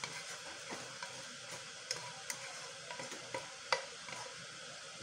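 An egg frying in a pan in a home kitchen at breakfast time, giving a soft, steady hiss with occasional small pops and spatula taps, fairly quiet and with no talking.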